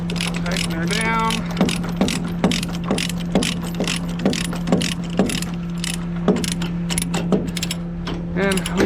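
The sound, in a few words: ratchet strap being tightened on trailer load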